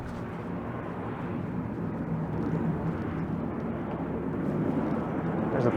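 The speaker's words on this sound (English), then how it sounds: "There's a plane taking off." Distant airplane taking off or taxiing at a runway, a low steady roar that builds slightly, heard from a city ride along a street toward the lake, with no talk.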